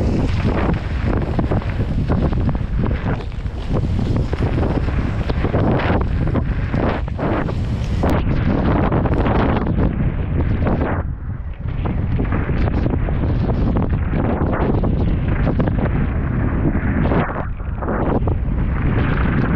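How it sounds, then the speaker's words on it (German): Strong gusts buffet the microphone almost nonstop outdoors at Leogang, a loud, roaring rumble that dips briefly midway and then surges back. "Oh mein Gott, das Wind ist so krass."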